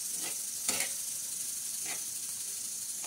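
A steady sizzle and hiss of onions frying with red chilli powder, turmeric and salt, with a few soft scraping stirs of the spoon in the pan.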